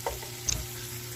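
Ingredients for green rice frying and being stirred in a pan, giving a steady low sizzle with a couple of brief scraping stirs, close and fairly quiet.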